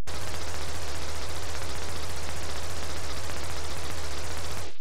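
Sustained rapid gunfire from the Xenoblade Chronicles: Definitive Edition battle in Makna Forest, a dense, continuous automatic barrage running loud and steady for several seconds with no talk over it.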